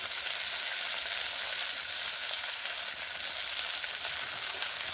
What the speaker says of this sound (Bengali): টমেটো দিয়ে মিডিয়াম ফ্লেমে 20 থেকে 30 সেকেন্ড এইভাবে নেড়ে ভেজে নিলাম।